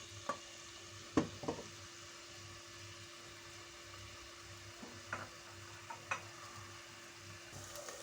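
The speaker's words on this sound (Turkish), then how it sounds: "Kavururken üzerine de Havucumuzu atalım arkadaşlar" Carrots sautéed with meat and tomato paste in a pan, a quiet steady sizzle broken by a few sharp utensil scrapes and clacks, close and faint with no voices.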